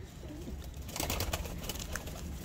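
Pigeons at a loft coo in soft, low, rolling calls that repeat over faint background noise.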